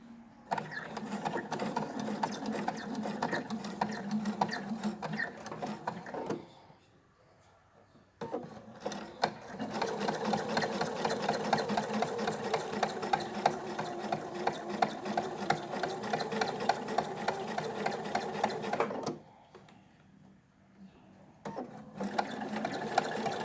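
A sewing machine stitches a felt wallet. It gives a fast, steady mechanical whir and clatter, close and continuous, stopping twice briefly before starting again, with no talking.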